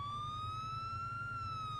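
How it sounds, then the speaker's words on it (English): A police vehicle's primary siren sounds during an internal vehicle check, a steady, unbroken wailing tone heard alone over a low rumbling engine. "your primary sirens"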